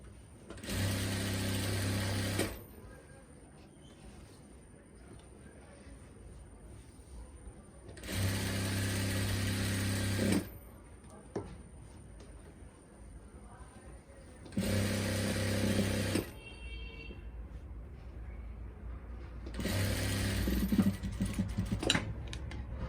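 A sewing machine stitches a straight salwar in four separate bursts of rapid, even whirring, each lasting a couple of seconds, with quiet pauses and faint handling clicks between runs, close by and with no talk.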